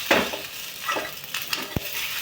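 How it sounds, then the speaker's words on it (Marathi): Cooked rice roasts in ghee in a kadhai, a soft continuous sizzle with scraping stirs and a sharp tap of the spoon against the pan. "शिजलेले तांदूळ भाजायचे."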